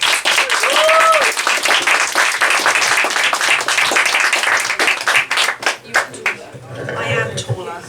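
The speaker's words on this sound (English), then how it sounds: "Can I have a round of applause," An audience applauds Becca Miles at a fundraiser evening, a loud, sustained wave of clapping with a brief whoop, thinning out near the end as scattered claps fade and a voice begins talking.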